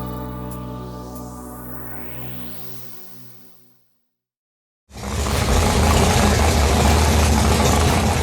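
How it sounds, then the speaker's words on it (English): A race-ready car engine holds a steady, loud tone that fades out to silence. After a short gap a broadband roar returns at full strength and stays loud to the end. "Every engine lover knows that sweet sound of an engine that is ready to race."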